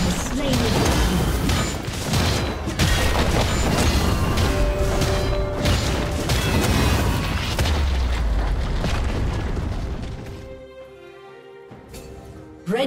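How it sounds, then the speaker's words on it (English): Heavy booms and crashing impacts accompany a turret being destroyed in League of Legends, loud layered blasts and debris continuing for several seconds before tapering into quieter game ambience. "Red team's turret has been destroyed."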